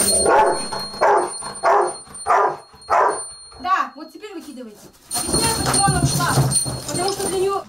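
A search and rescue dog gives a rapid series of loud, close barks as a signal, about five in a row, then a voice speaks over the scene.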